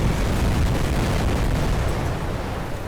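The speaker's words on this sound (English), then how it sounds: "Spam those grenades at them." Grenade explosions in The Great War mod battle by the River Severn: a dense, continuous roar of blasts that merge into one heavy, steady rumble with no clear gaps between them.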